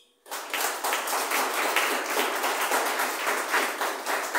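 A church congregation bursts into applause, dense sustained clapping from many hands that starts abruptly and stays loud and even to the end, with no talking over it.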